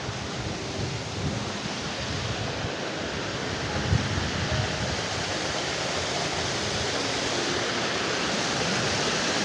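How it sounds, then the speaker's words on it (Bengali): Loud, dense rushing of falling water, a constant roar with no let-up and no voices, close to a waterfall in Keonjhar, Odisha. "ওয়া ওখানে একটা ঝর্ণা দেখা যাচ্ছে"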